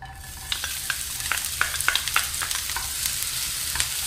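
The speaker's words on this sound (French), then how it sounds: "Je vais y ajouter l'échalote coupée en petits morceaux." Chopped shallot sizzling and frying in very hot olive oil in a pan over medium heat, a steady crackling hiss with a series of sharp spattering pops, close and alone with no voices.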